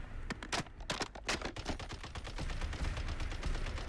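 Rapid bursts of suppressed BP50 rifle fire in Fallout 4, quick clustered shots at first, then a steadier stream of repeated muffled reports, loud and close with no talk.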